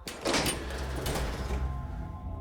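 A door in a dark video game world creaks and slides open with two scraping bursts, loud and close, then trails off into a low rumbling tail.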